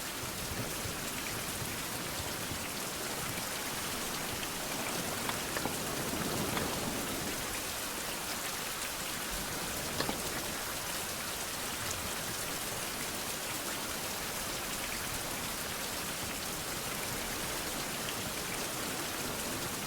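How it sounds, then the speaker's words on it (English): Steady, dense rain falls in a daytime 16th-century open-world survival game, Fountain of Youth, a constant broadband hiss of drops hitting surfaces that holds an even loudness throughout with no voices. "because it's daytime, I can work in the rain."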